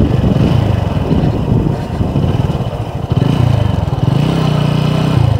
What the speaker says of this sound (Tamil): பாருங்க அப்படியே பைக் புதஞ்சி போகுது